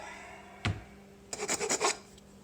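A hand rasp files wood while a mallet is being made: one dull knock, then a quick run of about five close, scratchy rasping strokes.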